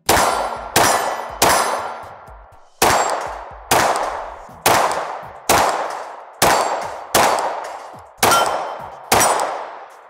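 Ten sharp metallic clangs ring out one by one at a steady pace as Glock 17 bullets strike a steel Action Target plate rack at close range, each hit leaving a bright decaying ring with no talk.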